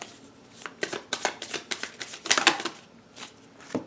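A deck of tarot cards is shuffled up close in a quick series of crisp riffling and slapping bursts, with no talking over it.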